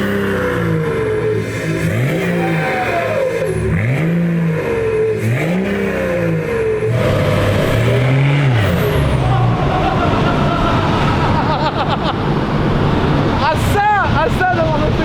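A car engine revs hard on an old-school dynamometer run without tie-down straps, with repeated rising and falling revs, then a sustained high-rpm howl. The sound is loud and close, and voices can be heard in the background.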